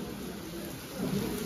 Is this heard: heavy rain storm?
yes